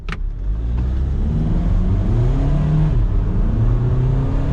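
A high-mileage diesel VW Caddy van pulls hard from a standstill with a sharp initial burst, its pitch rising steadily through the gear as it accelerates, loud and close.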